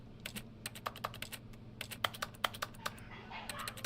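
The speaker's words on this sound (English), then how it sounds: "every time I press X, it sounds like I'm typing on a laptop" Rapid laptop-like key clicks sound each time a button is pressed in the video game The Stanley Parable, an irregular run of crisp taps over a quiet background hum.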